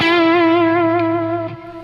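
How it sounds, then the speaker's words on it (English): A distorted electric guitar on its middle pickup with the gain turned up sustains one bright, overdriven note with a slight wavering vibrato before it cuts off, loud and close. "I like to have a tone where there's sustain and distortion, but I can still hear the note."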